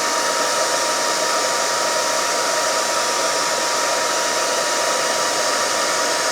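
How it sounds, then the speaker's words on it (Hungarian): A hair dryer switched to its second setting runs with a steady, loud, uniform whooshing hiss that holds constant from start to finish with no pauses. "hajszárító"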